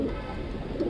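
Racing pigeons coo softly in a brief low, throaty murmur at morning feeding time, fairly close and without any talk.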